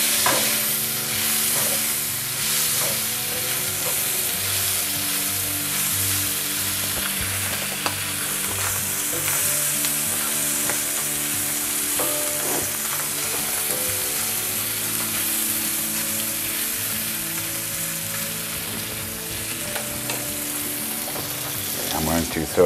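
Pieces of meat browning in a hot pan for a Russian shchi, a steady dense sizzle and crackle running the whole time with occasional scrapes and clinks of stirring, close and fairly loud, no talk.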